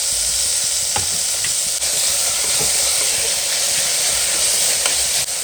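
Goat lungs and mutton fry with tomatoes in a pan, giving a steady, loud, close sizzle and hiss that runs unbroken throughout with occasional soft stirring clicks and no voices.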